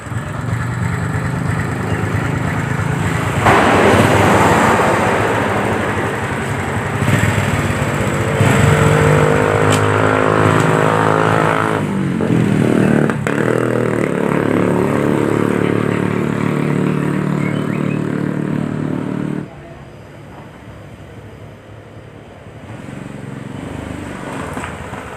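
A repaired motorcycle engine that had been lacking power and pulling weakly revs on a test ride, rising and falling in loud sustained bursts before dropping to a lower idle-like drone near the end.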